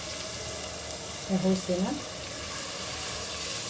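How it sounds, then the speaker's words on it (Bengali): Masala spices sizzle steadily in a frying pan before fish goes in, a constant close hiss with a short burst of speech in the middle. "মশলাটা কষে আসছে, এখন মাছগুলো দিয়ে দেবো।"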